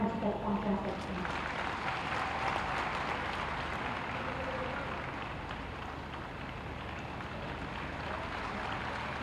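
A crowd applauds at a college inauguration and statue unveiling, steady dense clapping that holds for several seconds and eases slightly toward the end, with a voice briefly audible at the start.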